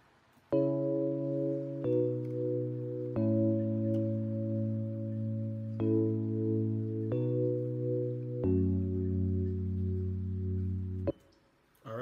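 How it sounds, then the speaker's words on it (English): Logic Pro X ePiano using the Modern Classic patch, playing sustained chords alone: about six held chords change in steady succession, each with a soft attack and a smooth electric-piano tone, then fading out. "This time we use the modern classic patch"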